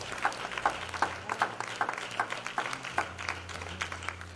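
A church congregation claps hands in a steady rhythm, evenly spaced claps repeating about twice a second over a low room murmur and faint background tones.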